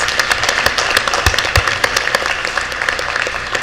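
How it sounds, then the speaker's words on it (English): An audience at a school board meeting applauds, brisk close-miked clapping with individual sharp claps standing out from the steady patter. "Can we just give him a round of applause, even in his absence?"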